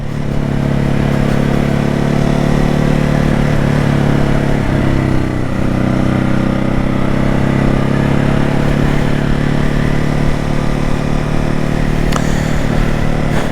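A 2021 Ducati Hypermotard 950 SP motorcycle engine roars steadily while riding, loud and close throughout, with constant wind rush and no talking.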